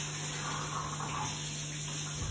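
Tap water runs steadily while hands are rinsed, a soft, continuous splashing close by with a low hum underneath.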